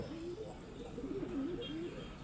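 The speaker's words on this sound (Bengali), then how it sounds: "এর ভিতরে আমার কিছু শখের কবুতর আছে" Pet pigeons coo softly in a low, rolling rhythm inside their house, two or three faint calls over steady background hum.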